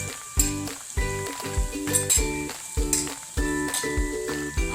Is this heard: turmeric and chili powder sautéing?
yes